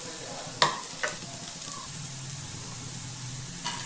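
Onion, cabbage and other vegetables fry in a pan for street-style schezwan fried rice, giving a faint, steady sizzle broken by a few sharp clinks and scrapes of a spoon stirring them, without talk.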